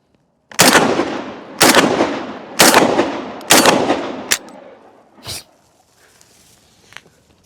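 A Serengeti AUG 12 shotgun fires four loud, evenly spaced blasts, each with a long echoing decay, followed by a fainter thump and a couple of small clicks.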